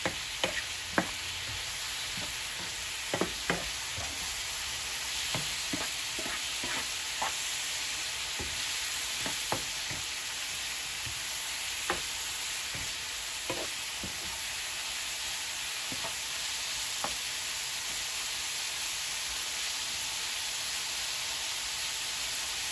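Beef for flautas sizzles steadily in a pan, a constant close hiss of frying broken by scattered sharp spatters and pops, with no one talking.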